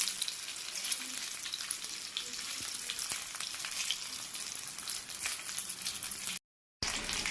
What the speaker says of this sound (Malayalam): അതുവരെ നമുക്ക് ഇങ്ങനെ തിരിച്ചും മറിച്ചും ഫ്രൈ ചെയ്തുകൊണ്ട് ഇരിക്കണം.